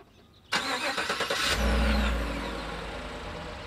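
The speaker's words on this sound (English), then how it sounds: "listen to this starter when I remote start the truck right now" A Chevrolet Silverado pickup fitted with a new CarQuest starter cranks briefly on remote start, then the engine catches with a deep rumble and settles into a steady idle, close and loud.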